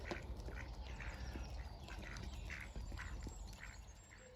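Several ducks quack repeatedly in short bursts at a wharf, close and fairly steady over continuous outdoor background noise, with no talking.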